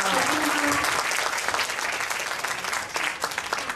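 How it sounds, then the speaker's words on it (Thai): A concert audience breaks into loud, dense applause, many hands clapping continuously and close, with a faint tone underneath at the start. "ขอเสียงปรบมือดังหน่อยครับ"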